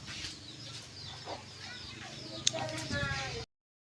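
Domestic chickens cluck softly at a household yard pen where ducks are also kept, intermittent calls over ongoing speech, with a sharp brief sound near the end.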